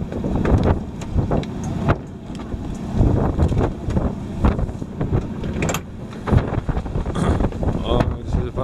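Wind blows steadily across a fishing boat at sea during a night hairtail fishing trip off Tongyeong, a continuous rough rumble with gusty buffeting on the microphone and scattered clunks and knocks from the deck, persisting throughout.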